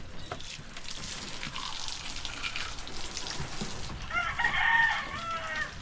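Chickens cluck amid outdoor background noise, with a rooster's crow rising near the end; no talking.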